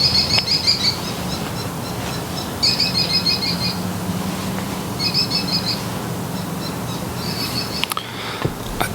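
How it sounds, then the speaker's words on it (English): Several birds chirping in short repeated bursts of high tweets, separated by pauses, fairly close, over a steady low background hum. "There's more than one bird now."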